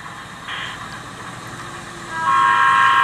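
A DCC model train locomotive horn, triggered from a DCC-EX command station throttle, sounds as a steady electronic multi-tone blast, rising in loudness toward the end after a short earlier tone, with no talking.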